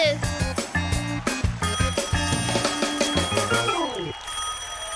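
A telephone rings in a Bhoot Bandhus cartoon, a bright repeated electronic ring that pulses in bursts over background music before dying away near the end.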